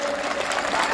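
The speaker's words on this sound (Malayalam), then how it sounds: "നിങ്ങൾ നിങ്ങൾക്ക് തന്നെ ഒരു കയ്യടി കൊടുത്തേ" Audience applause at a school annual day celebration, a dense steady clapping sustained throughout the short moment, fairly loud and close.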